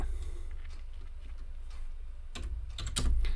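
Code is typed on a computer keyboard in a quiet room, soft scattered keystrokes at first, then a few sharper, louder clicks near the end, close to the microphone.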